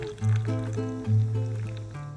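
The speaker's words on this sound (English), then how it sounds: "open a very light beer and then just pour it in." Very light beer pours into a seafood cocktail mixture over ice, a close glugging fill with steady liquid bubbling in two surges, with no talk over it.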